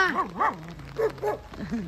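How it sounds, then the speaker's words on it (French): Small dogs at a daycare give several sharp, yipping barks in an irregular series, close and fairly loud, with a brief whimper between bursts. "Ça, c'est des petits chiens de garderie."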